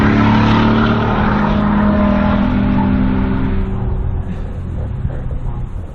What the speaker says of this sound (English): People with expensive sports cars out having fun.